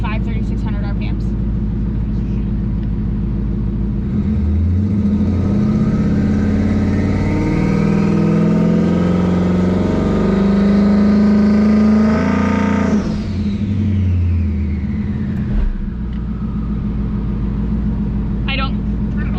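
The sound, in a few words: twin turbo Mustang engine revving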